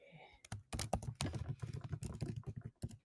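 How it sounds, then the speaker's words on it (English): Typing on a computer keyboard: rapid, irregular clusters of crisp keystrokes heard up close, with short pauses between the bursts. "Let me type it."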